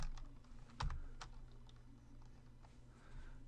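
Quiet typing on a computer keyboard as a project title is entered: a short run of light, irregular key clicks with one firmer tap, close and alone with no talk.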